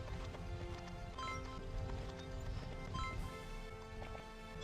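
Horse hooves clip-clopping in the video game Barbie Horse Adventures: a steady, rapid run of hoofbeats over dense, continuous game music.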